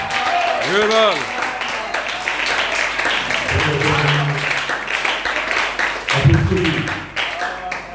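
A congregation at a church service claps in acclamation: steady, sustained applause from many people, with singing and voices over the top.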